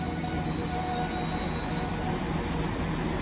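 Transport for Wales train running into a station, a steady broadband rumble of wheels on rail with faint high squeals, continuous and fairly close with no talk.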